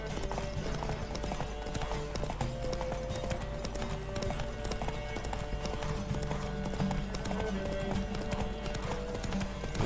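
A horse gallops in The Witcher 3, its hooves drumming in a fast, continuous rhythm, layered over in-game music and ambient sound.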